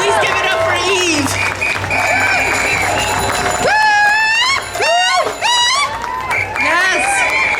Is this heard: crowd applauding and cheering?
yes